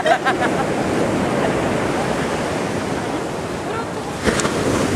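Ocean surf at the beach in Itacoatiara, Niterói, a loud, steady wash of breaking waves filling the whole stretch, with brief wind buffeting on the microphone.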